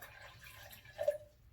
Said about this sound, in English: I'm going to just pour the water in my cup.